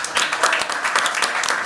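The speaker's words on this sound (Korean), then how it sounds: "정말 이모경 의원님 다시 한번 박수 한번 보내주십시오." Brief burst of audience applause for a lawmaker at a National Assembly ESG talk concert in Korea, many hands clapping together in a lively, close wash.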